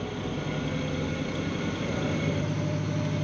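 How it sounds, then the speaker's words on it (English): Boat cruising on a single engine through the Erie Canal, a steady low droning hum with constant broadband rumble, close and unchanging throughout, no talking. "Go back to our single engine cruising."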